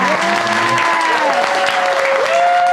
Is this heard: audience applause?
yes